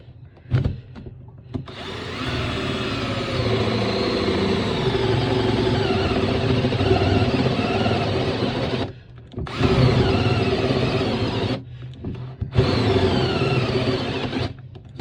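Electric drill mounted on a plunge stand boring into a piece of wood: a loud, steady motor whine running in three long stretches separated by brief pauses, close by with no talking.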